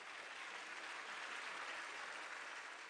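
A theatre audience applauds in a dense, even wash of clapping that holds steady for the whole stretch, many hands together at a moderate distance.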